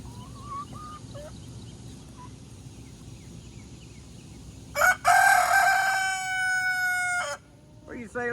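Soft clucking of chickens eating watermelon murmurs in the background, then a rooster lets out one loud, drawn-out crow nearby, followed by a short squawk.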